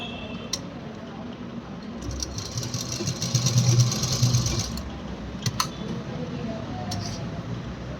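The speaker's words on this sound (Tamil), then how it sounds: "இங்கேருந்து க்ராஸாக வந்து இங்கே 1/4 இன்ச்சில் வந்து தையல் போட்டே வரணும்." A sewing machine runs steadily while stitching an A-line frock, its mechanical whir and ticking continuous throughout, with quiet handling sounds over it.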